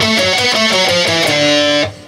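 Distorted electric guitar plays a fast alternate-picked phrase from a solo, a quick run of sharply articulated notes at close, loud level, ending abruptly.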